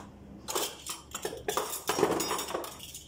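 A spoon clinks and scrapes against a dish while a hot drink is served in a village home, several bright irregular clinks and knocks close by, with no one talking.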